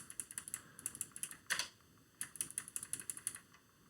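Fingers tap quickly on a computer keyboard in a close, crisp run of clicks, with one heavier keystroke midway like Enter being pressed, then a short pause before the rapid typing resumes; no talking.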